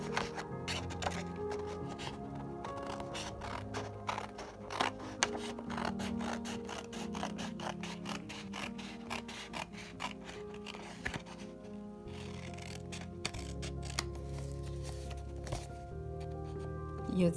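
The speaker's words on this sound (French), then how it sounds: "on peut littéralement couper au ciseau l'excédent en suivant le bord de l'enveloppe" Scissors trim excess paper along an envelope edge, close rustling of paper and repeated snipping, crinkling strokes with handling noises, fairly quiet throughout.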